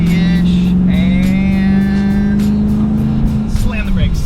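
A Jeep SRT8 accelerates hard to around 50 mph, its engine note rising steadily in a loud, close, in-cabin drone while people talk over it.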